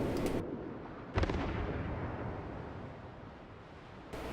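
Heavy naval gunfire from a warship in World of Warships, a deep booming salvo with a rumbling tail, loud and close, followed by a second blast near the end.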